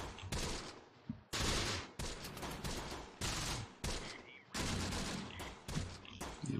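Gunfire in the video game Close Combat: The Bloody First comes as a series of loud, dense bursts of rapid shots separated by brief gaps, sustained across the whole stretch.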